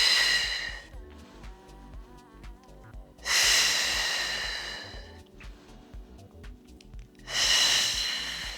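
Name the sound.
breathing in and out during Pilates leg circles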